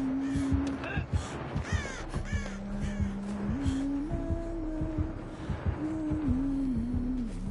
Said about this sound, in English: The crows are gonna give me away.